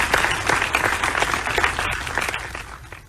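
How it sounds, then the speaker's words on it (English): Audience applause for a speaker at a national research summit, steady clapping from many hands filling the whole stretch at moderate level with no voices over it. "a round of applause."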